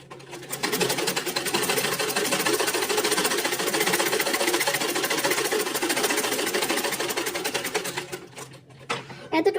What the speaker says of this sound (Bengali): এতটুকু আসার পর আমরা এই পাশটাকেও বেশ অনেকটা সেলাই করে নেব।